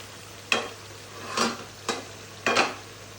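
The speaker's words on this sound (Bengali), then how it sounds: "এই দেখুন আমি কিন্তু একটু পর পর এটাকে নাড়া দিয়ে দিচ্ছি।" Dried lata shutki fish and spices being stirred in a pan, four separate scraping strokes spaced about a second apart, close and fairly quiet over a faint background hum.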